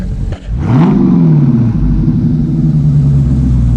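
A 2019 Dodge Charger Scat Pack engine roars up in a quick rev through a Borla S-Type catback exhaust, then settles into a loud, deep droning burble, close by.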